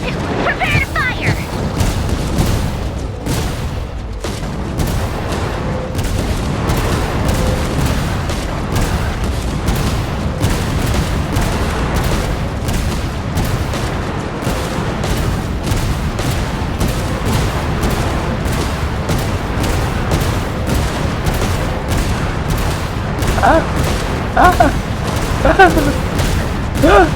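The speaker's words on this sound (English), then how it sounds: "Bosco 2, prepare to fire!" Cannon fire in Genshin Impact pounds continuously as a dense, loud barrage of rapid booms and blasts, layered with constant battle noise from start to finish.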